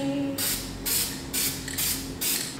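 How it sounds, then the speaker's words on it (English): Marble-effect spray paint hisses from an aerosol can as a base layer on a faux-marble nightstand, four sharp bursts in a row, close and loud with brief pauses. "the marble spray paint, so I'm gonna try that out first. I'm gonna use this as a base layer"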